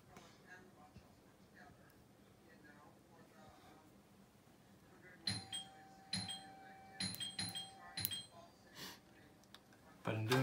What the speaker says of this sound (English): So that's the Ring doorbell.